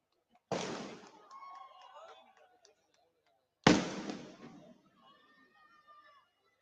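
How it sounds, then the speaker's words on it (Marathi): Two firecrackers burst during a Dahi Handi gathering, each a sharp, loud bang followed by a crackling tail, about three seconds apart, with crowd chatter faintly underneath. "फटाके नंतर लावा, आत्ता लावू नका."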